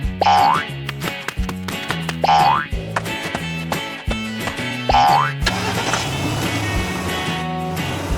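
A cartoon car bounces along with repeated springy boing effects and a puttering engine, rhythmic bursts over a bright music bed, ending in a steadier rolling sound.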